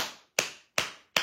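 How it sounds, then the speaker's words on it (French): Three sharp hand claps at an even, unhurried pace, each crisp and close with a short fading tail, heard alone without talking. "Mais je t'applaudis."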